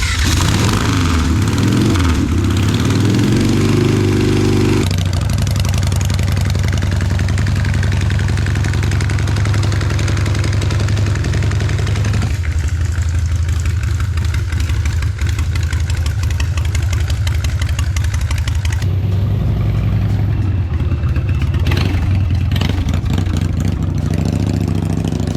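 Sucker Punch bobber motorcycle engine running steadily and loudly up close, with a deep continuous rumble that shifts in pitch as it revs early on and again near the end; no talking.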